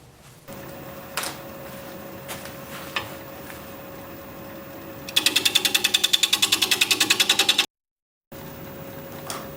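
A wood lathe turns a walnut hollow form while a tenon is cut, giving a steady mechanical hum with scattered knocks, then a loud, rapid rhythmic chatter for a few seconds before a brief dropout.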